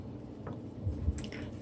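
A cup of water poured into flour for Jamaican dumpling dough, giving brief soft, wet squishing and dripping sounds, close and fairly quiet, with no talking.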